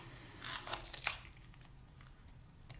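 A fingernail pries up and rips off small pieces, making a few quick, close crinkly tearing scrapes in the first second, then quiet faint rustling.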